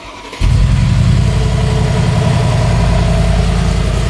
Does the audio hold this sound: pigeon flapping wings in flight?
no